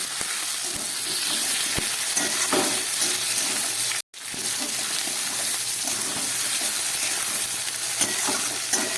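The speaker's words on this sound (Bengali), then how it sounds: "খুব ভালো করে সবজিগুলোকে ভেজে নিলাম।" Vegetables with capsicum and tomato frying in a pan, a continuous loud sizzle with repeated stirring scrapes, briefly cutting out for a moment midway before resuming.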